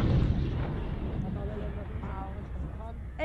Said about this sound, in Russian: Работает артиллерия.